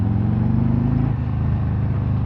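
A Harley-Davidson Road Glide 3 trike pulls away in gear, its engine a steady, loud low rumble that shifts pitch partway through as it accelerates.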